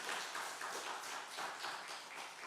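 Church congregation applauding together during a Wednesday worship service, a dense steady patter of many hands clapping at once, close and continuous for the whole stretch with no talk over it.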